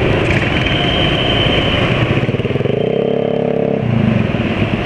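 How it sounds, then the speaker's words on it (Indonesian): A motorcycle fitted with a racing exhaust revs loudly nearby, a rough pulsing engine note that climbs and falls with a steadier tone held in the middle before easing back, and no voices. "ini contoh knalpot racing ya"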